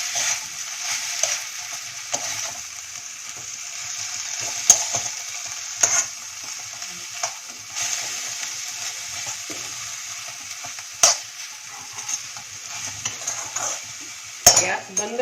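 Fried amaranth greens being stirred in a pan with salt and peanut powder, a steady sizzle under repeated scraping strokes and occasional sharp metal clicks of the spatula, close and alone.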